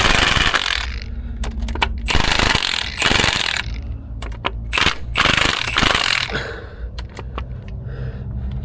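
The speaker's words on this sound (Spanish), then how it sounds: "No zafamos el tornillo de una, sino que vamos zafando un poquito, zafando un poco." Bolts being loosened a little at a time on a diesel injector cup with a ratchet, giving bursts of loud, close metallic ratcheting clicks separated by short pauses and small clinks.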